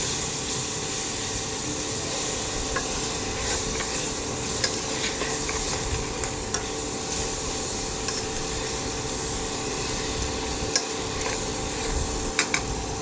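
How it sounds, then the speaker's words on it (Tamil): Onions, tomatoes and mint sautéing in a pan, a constant soft sizzle with scattered light scraping taps of a spatula, steady and close, with no voices. "வெங்காயம் தக்காளி நல்லா வதக்கிடுச்சு."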